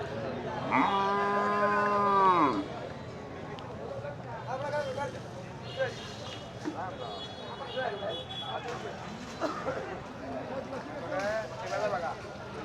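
Sahiwal cattle at a rural weekly riverside livestock market, with one loud, close drawn-out moo near the start, then busy market chatter and voices of people talking around the animals.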